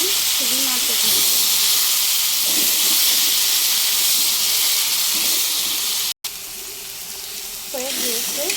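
Red amaranth greens stir-fry with shrimp in a hot pan, giving a loud, continuous steamy hiss that drops out for an instant, with a voice faintly present at moments.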